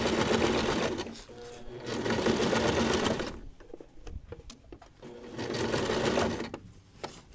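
Sewing machine stitching through many thick fabric layers in steady bursts, a loud rapid stitching hum that pauses briefly in the middle before starting up again, with no talking.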